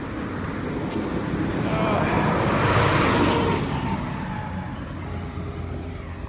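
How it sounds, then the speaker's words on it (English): A dump truck passes close by on the road, its rumble swelling to a broad roar midway and then fading, with wind buffeting the microphone throughout. "Got a dump truck coming."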